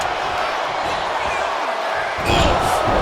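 An arena crowd in the WWE 2K26 wrestling video game gives a loud, continuous roar of reaction, building to a brief cheering surge near the end, with commentary voices mixed in.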